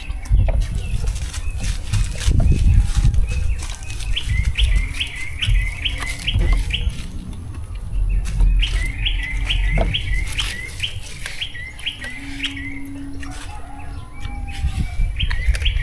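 Birds chirp in repeated bursts with occasional wing flaps outdoors on a farm beneath a mango tree, set against a steady low rumble of background noise.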